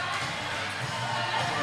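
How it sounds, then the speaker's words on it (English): A roller derby crowd roars and shouts in a short, continuous burst of cheering during a bout, loud and close with no break. "Listen to the crowd go crazy for Polly."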